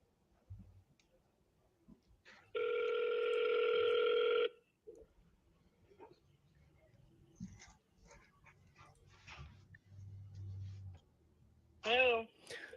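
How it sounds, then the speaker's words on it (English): An outgoing telephone call produces one long, steady ringback tone lasting about two seconds, followed by quiet room noise, faint handling clicks and a brief rising chirp near the end. "let's call her, see if we can get on the phone first"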